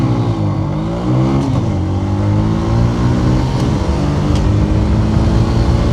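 Bajaj CT110X and TVS Victor commuter motorcycles accelerate hard side by side in a drag race. Loud, continuous engine drone climbs in pitch, dropping briefly at gear changes before rising again, with no talking.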